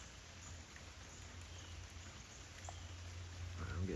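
Steady rain falls outdoors as a soft, even hiss in a wooded spot, faint and continuous with a low rumble beneath and occasional distant drips.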